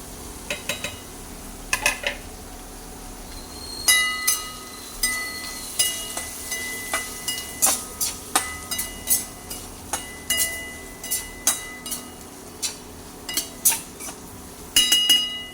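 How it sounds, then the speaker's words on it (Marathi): A spoon stirring pavata usal in a metal pot while chilli powder, turmeric and salt are added, giving sharp, repeated clinks and scrapes against the pot in an uneven rhythm, close and fairly loud. "आता हालून घेऊया आणि ह्यामध्ये घालूया आता लाल तिखट हळद आणि मीठ"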